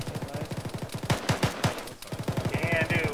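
Rapid bursts of automatic gunfire from a military shooter video game crack close by in quick rhythmic strings, with short pauses between bursts and a faint voice underneath.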